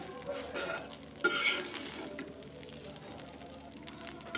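Leftover rice fries in a pan while it is stirred, producing a steady soft sizzle with scraping strokes and an occasional clack of the spoon, close and moderately quiet.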